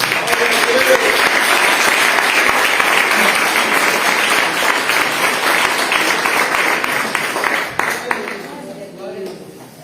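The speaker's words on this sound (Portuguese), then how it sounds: "Aplauda ao Senhor" A church congregation applauding, a loud continuous wash of many hands clapping that fades toward the end, with voices rising faintly underneath.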